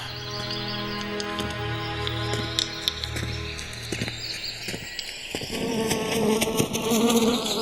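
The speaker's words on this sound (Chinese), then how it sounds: "你看看，这苍蝇怎么干起蜜蜂的活计来了？" Flies buzz loudly and continuously around an outdoor spot in the wilderness, with droning tones rising and falling as they circle close by, faint thuds and bird calls in the background.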